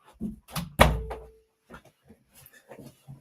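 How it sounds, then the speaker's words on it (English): A door is shut with a single solid thunk close by, preceded by a couple of softer knocks, followed by quiet room tone and faint speech. "Make I just close this door for this guys."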